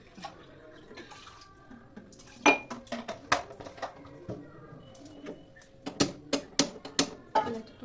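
Ceramic tea cups and dishes clink and clatter in a home kitchen while tea is made, a run of sharp, close knocks and rattles, clustered bursts around the middle and a quick series near the end, with faint background noise.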